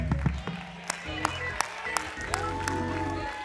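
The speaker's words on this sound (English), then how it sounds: "Let the church clap a little bit." Scattered handclaps from a church congregation sound as sparse, sharp individual claps spread across a few seconds, light and uneven under faint murmuring.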